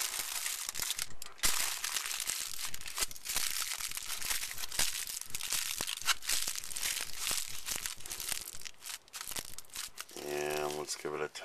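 Aluminum foil crinkles continuously as it is folded up for a homemade Faraday cage, a dense, close rustling texture running throughout, with a brief tonal hum near the end.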